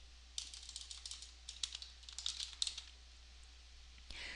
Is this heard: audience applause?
no